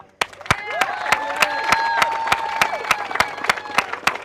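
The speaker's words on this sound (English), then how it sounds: "I want everyone to give a huge round of applause to Eddie, who's live streaming." Inside an indoor pickleball center, an audience claps in sharp, evenly spaced beats while voices carry underneath, the rhythmic clapping standing out loud and near.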